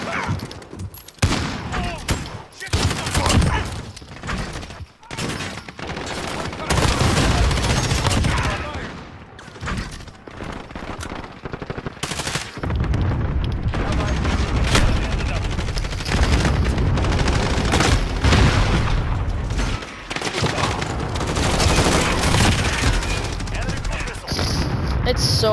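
Shotgun blasts and machine gun fire in a shooter game, loud bursts and heavy booming shots that go on almost without a break, with short lulls between firefights and a voice talking over parts of it.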